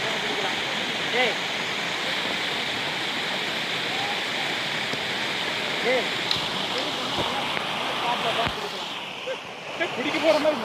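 Catherine Falls near Kotagiri roars as a constant, dense rush of falling water, loud and steady throughout, with voices faintly mixed into the noise.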